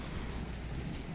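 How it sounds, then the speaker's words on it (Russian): Steady, strong wind carrying dust roaring into the microphone, a dense low rumble of buffeting air with no breaks, fairly loud throughout. "Ветер, пыль."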